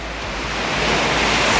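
Steady rushing roar of the Runjhunya waterfall, a broad wash of falling water that builds slightly louder toward the end, with no voices.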